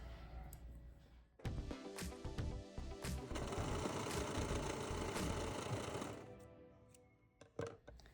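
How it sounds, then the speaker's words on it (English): A sewing machine runs steadily for several seconds joining the short edge of a romper neckband, its rapid mechanical hum starting abruptly and ending with a few short bursts, close and loud. "we're going to sew this short edge together at a 1/4 inch seam allowance"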